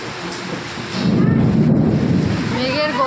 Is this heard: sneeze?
no